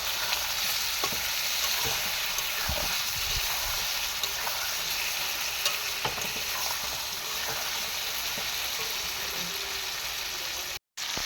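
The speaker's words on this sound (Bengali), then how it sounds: "হলুদ, লঙ্কা, মিট মশলা, চিকেন মশলা দিয়ে পুরো ভাজা হয়েছিল" Meat frying in a pan with turmeric, chilli, meat masala and chicken masala gives a continuous dense sizzle and crackle, with occasional stirring scrapes and a brief cut near the end, close and steady, with no voices.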